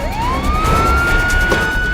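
Police car siren wailing loud and close, one long rising sweep that climbs and then holds a steady high tone, alone with no voices over it.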